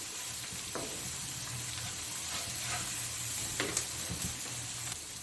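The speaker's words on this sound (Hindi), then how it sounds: "और ये है अदरक और लहसुन। इसको बस थोड़ा सा इसको कुक करना है।" Ginger and garlic fry in a pan with a steady, close sizzle and hiss, punctuated by a few light stirring scrapes.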